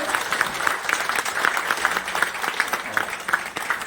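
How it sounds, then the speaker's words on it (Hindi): A standing audience at a Chamber of Commerce annual installation and honors ceremony applauds the district magistrate and police superintendent; steady, fairly loud clapping with a loose rhythmic pulse and faint crowd murmur. "डीएम साहब और एसपी साहब का सभी स्वागत जोर से ताली बजाकर कर दीजिए।"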